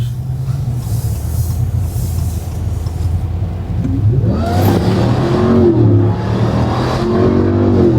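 A 708 horsepower pickup truck engine idles with a low rumble, then revs and accelerates hard, the roar climbing loud and close over several seconds.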